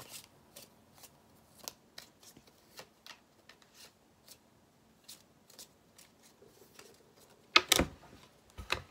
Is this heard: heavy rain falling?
no